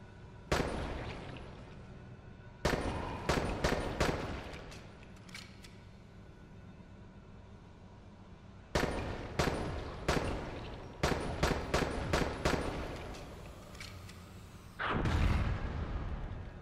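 Gunfire in the zombie video game Dying Light: sharp bursts of shots in clusters, several rapid volleys separated by short pauses, loud and close, with no talking over it.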